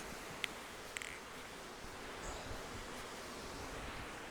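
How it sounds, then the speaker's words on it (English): Wind blowing across an open campsite on the Scottish border beside a pitched tarp and bivy, a steady broad rush with a few faint clicks early on, fairly quiet and continuous, no one speaking. "So the wind's coming from this direction"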